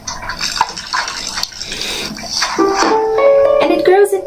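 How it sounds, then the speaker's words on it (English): Watering a seed in a pot in the video game Botany Manor makes a gushing, splashing pour of water, layered with chiming musical tones as the plant starts to grow, while a person talks over it. "So we also need to water the seed."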